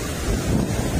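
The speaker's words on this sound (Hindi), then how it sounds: "बड़ी बड़ी लहरें आ रही है" Waves surging and washing onto the beach in Karachi, heard as a broad, steady roar of surf with wind buffeting the microphone close by throughout.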